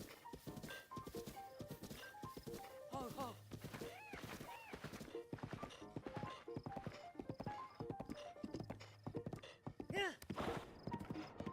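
Horse hooves clip-clop in steady galloping rhythm through the Breath of the Wild video game, loud and continuous, with occasional snorts and game sounds layered over it.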